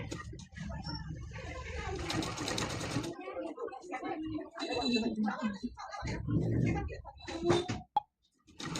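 A sewing machine stitches a blouse neck design in rapid bursts, starting and stopping repeatedly, with someone talking over it close by.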